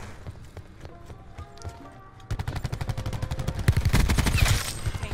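The Peacekeeper gun fires rapidly in a video game, a fast rhythmic stream of sharp shots that starts after scattered game sounds and grows louder and denser toward the end.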